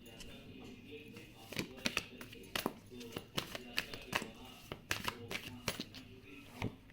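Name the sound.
tarot cards being shuffled and drawn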